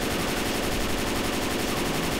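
A rapid, continuous burst of M16 automatic rifle fire in the video game Left 4 Dead 2 rattles loud and close through the whole short clip, with no talk.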